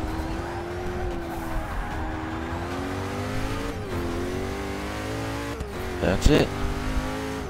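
A Koenigsegg Agera lapping the Daytona sports car circuit, its engine holding a steady droning tone that dips and rises with gear changes, tires squealing briefly near the end, with someone talking over it.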